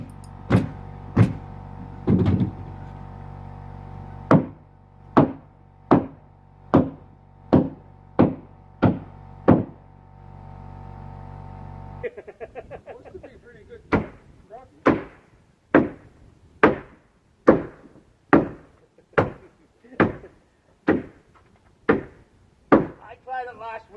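An air nailer drives Spax nail hole screws, Phillips-head threaded fasteners, into framing on a lake cabin addition, firing over twenty sharp, loud pops in a quick rhythm, with a compressor or motor hum under the first half.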